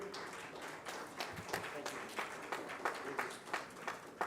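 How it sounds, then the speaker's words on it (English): An audience at a vegan festival gives a round of applause for a volunteer, steady, fairly faint clapping with irregular sharper claps rising through it. "So let's give a huge round of applause for Ms."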